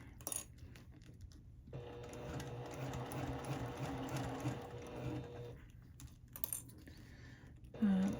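A sewing machine back stitches a vinyl pocket onto lining fabric, a continuous close mechanical whir lasting several seconds, framed by quieter handling clicks and a short burst of stitching near the end.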